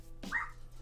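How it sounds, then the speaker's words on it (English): A dog in a living room gives a single faint bark in the background, short and distant against a quiet room. "in the living room, my dog is like barking really, really loud"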